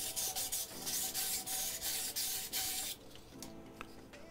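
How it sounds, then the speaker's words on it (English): Rhythmic rasping strokes of sandpaper on plastic pressure chamber parts for a two-stage water rocket, sanded inside and out, steady and close for about three seconds, then stopping to leave faint handling noises. "Give it a nice sand, both inside and out."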